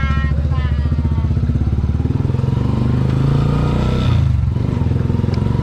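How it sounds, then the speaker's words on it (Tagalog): A motorcycle engine runs steadily nearby on a rural road in Bautista, Pangasinan, a low continuous throb with some clatter and a brief surge around the middle, while voices speak faintly over it. "sasagaysa da kami ti motor"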